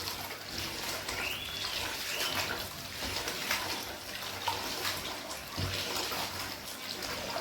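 Rice is washed in water inside a pot, making a soft continuous swishing and trickling with a few small splashes, close and fairly quiet.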